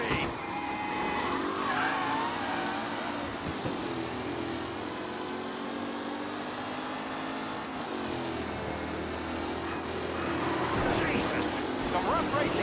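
Race cars in Mafia: Definitive Edition bunching up and colliding, engines droning steadily with squeals and scraping throughout and a burst of sharper crashing near the end, under continuous talk.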